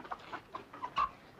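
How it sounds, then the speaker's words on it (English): A chicken clucking in a short series of soft, quick clucks, faint and close, with no talk over it. "What'll I do with this chicken"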